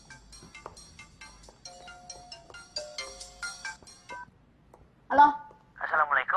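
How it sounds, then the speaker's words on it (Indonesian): A telephone being dialed to place a call, a short run of tones and beeps under quiet background music, followed by a brief burst of voice as the call connects. "Telepon lagi."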